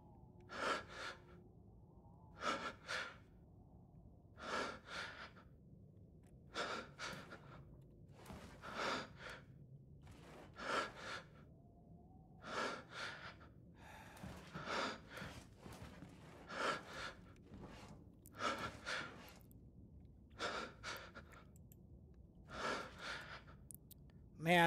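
Heavy, labored breathing from a character in the Resident Evil 8 horror game repeats in regular sighing gasps, each breath rising and falling on its own against quiet background.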